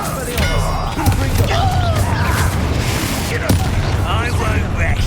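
A Bombarda spell blast in Hogwarts Legacy combat, a series of loud booming impacts and crackling bursts over a constant rumble, with game voices speaking over the action.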